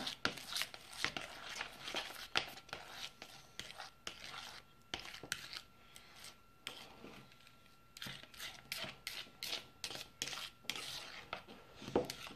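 Homemade puffy paint of shaving cream turning yellow being stirred in a bowl, a quiet, rapid series of soft scraping and tapping strokes repeating steadily throughout, with faint low voices murmuring now and then.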